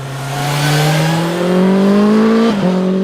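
A sport touring motorcycle engine revs upward steadily in pitch, loud and close, with a brief dip as a gear changes before climbing again.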